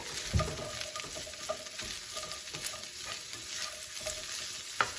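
Carrots sautéing in a pan for Mongolian-style beef with vegetables, a continuous bright sizzle with light stirring taps and a couple of sharper knocks, close up with no voices.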